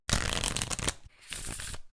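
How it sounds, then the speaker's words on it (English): A standard 52-card deck is riffle-shuffled up close in two quick bursts of crisp, rapid fluttering flicks separated by a short pause, with no talking. "After the cards are shuffled,"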